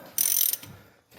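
A wrench ratchets as it turns over the LS V8 engine in a 1993 Camaro during a TH350 transmission install: one quick, close metallic ratchet burst followed by a faint clunk.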